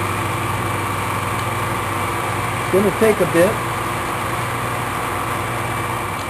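Steady high-pitched whine of a drill boring a hole through the center of a metal part for a mini woodstove, running continuously throughout while someone briefly speaks midway.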